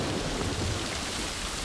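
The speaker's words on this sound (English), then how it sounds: "Raining pretty hard." A steady, heavy downpour of rain in The Last of Us Part 1 hisses across the whole stretch, with a low rumbling underneath, continuous and close.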